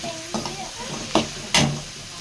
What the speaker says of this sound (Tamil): இந்த மட்டன் வெங்காயம் வந்து வதங்கிட்டே இருக்கு